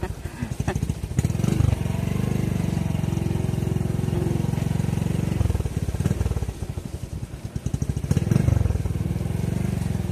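A freshly washed motorcycle, now muddy after rain, idles with a steady mid-low engine rumble, loud and close, swelling and dipping slightly with the throttle; no one talks.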